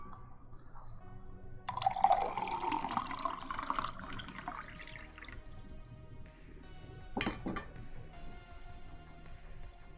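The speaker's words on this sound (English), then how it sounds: "Pour some more water real quick." Water is poured into a container for a few seconds, a bright splashing fill that rises and then fades. A short clink follows later against faint background noise.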